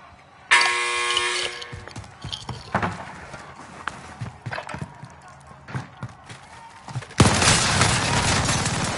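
Video game gunfire from a gun with heavy recoil cracks out in bursts, a dense volley near the start and another loud one at the end, with scattered clicks and thumps between.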